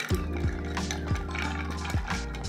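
A bar spoon stirs ice in a glass for a Toronto cocktail with Fernet, making soft clinks and light rattling over a continuous background of music.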